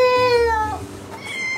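Several cats meowing close by in a home, long tonal cries overlapping and sliding in pitch, with a steady hum underneath, while the cats wait for food.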